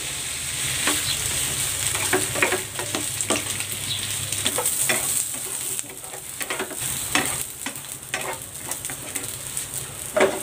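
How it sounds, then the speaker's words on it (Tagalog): Steady sizzling of chicken franks frying in a pan, with scattered pops and crackles and occasional scraping stirs throughout. "Meron naman ako ditong chicken franks. Prito ko muna ito ng bahagya."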